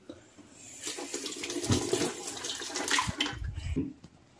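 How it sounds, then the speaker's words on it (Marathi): Fruit being washed under a running kitchen tap for juice, a steady splashing rush of water that swells and fades over a few seconds. "चल तर मी आता ही धुवून देतो"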